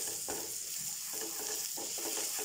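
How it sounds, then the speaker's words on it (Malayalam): Finely chopped ginger sautés in a pan for butter chicken, with a steady sizzle and frying hiss throughout and a few soft scraping stirs of a spoon, close up with no talk. "നന്നായിട്ടൊന്ന് വഴറ്റിയെടുക്കുക."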